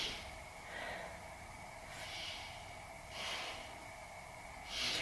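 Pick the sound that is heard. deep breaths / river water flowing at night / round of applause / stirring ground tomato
deep breaths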